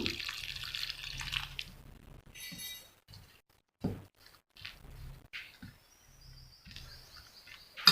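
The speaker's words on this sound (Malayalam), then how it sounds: "ആവശ്യത്തിന് വെള്ളം ഒഴിച്ച് കൊടുക്കുക" Water is poured into dosa batter during mixing, giving faint splashes, drips and scraping in short bursts with quiet gaps between them, and no talking.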